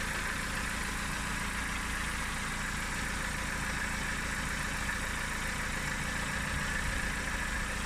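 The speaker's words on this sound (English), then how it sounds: "So I'll hold it at a fast idle again." A Nissan Micra K11 engine held at a fast idle during servicing, a steady, continuous hum with an even low rumble and slight vibration, close and unbroken with no talking.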